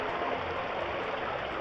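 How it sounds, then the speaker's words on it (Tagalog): Stream water flowing over rocks near Gutalac, Zamboanga del Norte; a brief, steady rushing and gurgling wash, close and continuous, with no voices. "Kita niyo po yung daloy ng tubig."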